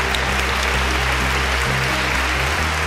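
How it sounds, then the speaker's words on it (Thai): Steady, even applause from a studio audience on a Thai television show as a teacher is honored, a continuous wash of clapping with a low musical hum beneath it and no speech. "ขอเสียงปรบมือให้คุณครูด้วยครับ"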